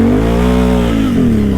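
A Can-Am Outlander 800 ATV engine revs hard and steadily near the microphone, its pitch holding high with slight dips, loud and continuous with no talk.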